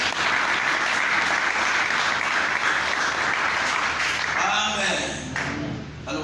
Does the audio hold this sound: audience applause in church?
yes